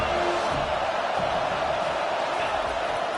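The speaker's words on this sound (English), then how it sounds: "how nice is it to have the home crowd going absolutely bananas?" Home crowd at a college football game roaring in a dense, continuous wall of cheering that holds steady and loud throughout.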